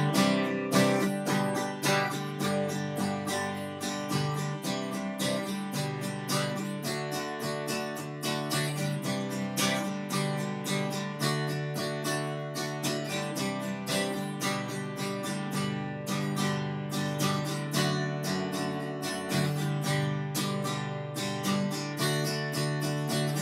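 Rhythm guitar strumming chord progressions in steady eighth notes, a continuous up-and-down pattern with regular accents that changes chords and rhythm over time, played close and alone without talking.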